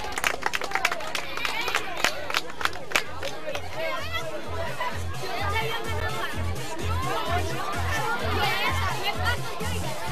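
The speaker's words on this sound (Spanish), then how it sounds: "Fuerte el aplauso para ellos." Applause for children at an athletics award ceremony, scattered sharp claps at first that fade into crowd chatter, with a steady rhythmic thump underneath and people talking.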